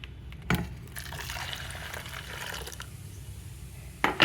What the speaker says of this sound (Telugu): చారుకు సరిపడా వాటర్ పోసేసుకుందామండి